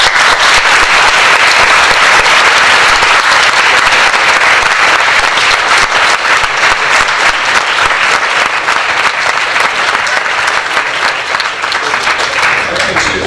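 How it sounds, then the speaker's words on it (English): A lecture-hall audience at a Warwick Politics Society talk with Peter Hitchens gives sustained, dense applause, loud and continuous for its whole length. "please can we give him a big round of applause"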